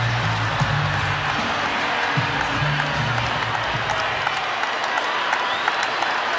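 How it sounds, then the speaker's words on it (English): A baseball stadium crowd roars and applauds after a game-tying hit, a dense, sustained wash of cheering and clapping from a large audience that fills the whole stretch, with a voice briefly heard within it. "And listen to this crowd."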